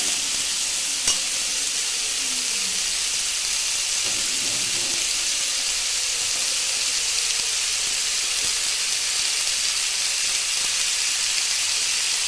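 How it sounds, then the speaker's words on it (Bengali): Raw vegetables stirred and sautéed with spices in a hot pan for chicken stew, giving a steady, close sizzle and hiss throughout with a few faint scraping stir sounds and no speech. "এবার আমি একটু সবজিগুলো দিয়ে মশলার সঙ্গে ভালো করে কষাবো যাতে মশলাটা সবজির গায়ে লেগে যায়"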